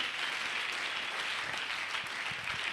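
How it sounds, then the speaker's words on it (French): A church congregation clapping hard and applauding, a steady dense wash of many hands that holds at an even level from start to finish, with no voices rising above it. "Mtu anaweza kupika mikono nguvu sana."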